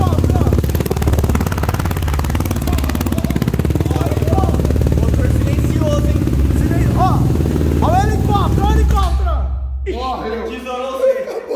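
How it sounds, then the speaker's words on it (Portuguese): A 470cc engine running on a FuelTech FT450 injection unit fires up for the first time, roaring loud and steady with a raspy idle before revving and cutting out near the end. Voices talk over it. "Primeira partida do motorzão. 470 cilindrado"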